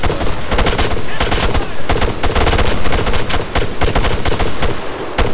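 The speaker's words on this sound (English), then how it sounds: "We're taking fire west, west!" Rapid automatic gunfire from Arma 3 combat rattles in loud, dense bursts almost without pause, with single shots and echoing reports mixed in and a voice shouting briefly over the noise.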